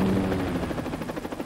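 An Alaska National Guard Pave Hawk rescue helicopter flying at 4,000 feet gives a loud, steady rotor thrum with rapid rhythmic blade pulses throughout.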